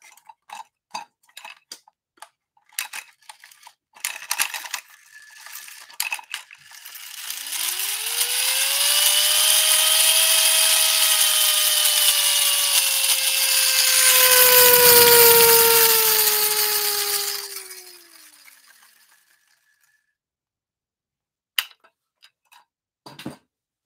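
A wind-up toy motorcycle's clockwork mechanism whirs loudly for about ten seconds, its pitch rising and then sliding down as it unwinds, framed by scattered clicks and ticks of winding and handling before and after.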